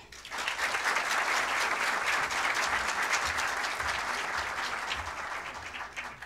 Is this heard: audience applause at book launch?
yes